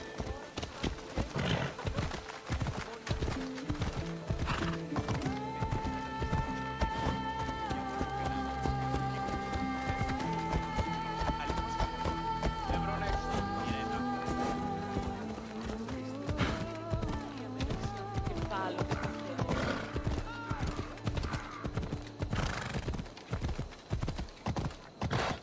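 A horse gallops in the Assassin's Creed Odyssey video game, its hooves drumming in a fast, steady rhythm throughout, layered over a sustained orchestral score with occasional whinnies.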